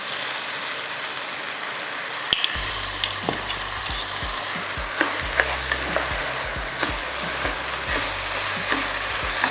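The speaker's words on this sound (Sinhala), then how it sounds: "ඊට පස්සේ මගේ white wine අරගෙන white wine පොඩ්ඩක් මේ විදියට එකතු කරනවා." White wine poured into a hot pan of mushroom risotto, giving a steady crackling sizzle with repeated spoon scrapes and taps as it is stirred, close and continuous, with no voices.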